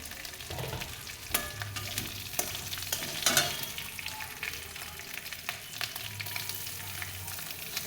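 Whole garam masala spices crackling and frying in hot oil for a Bengali prawn curry, a steady close sizzle with occasional stirring clinks and bursts, no voices.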